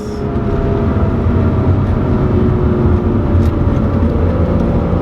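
A Lotus Evora 400 sports car is heard from inside while driving, its engine giving a loud, steady, low droning hum with a sustained tone and road roar, and no voices.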